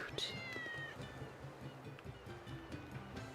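Short meows from a cat in the Tales of Berseria game, heard in the fog-bound Taliesin, Cliff City of the East, with a few bright calls near the start over a steady bed of ocean surf and game music.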